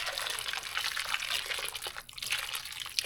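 Boiling water from a kettle pours steadily over limes in a bowl, a continuous bright splashing trickle that dips briefly near the end before resuming, close and alone.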